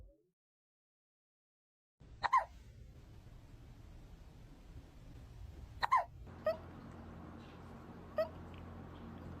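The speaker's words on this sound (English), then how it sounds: "Nana had hiccups this morning." A cat hiccups several times indoors, the sharp little spasms coming in short bursts over a low background hum, with no one speaking.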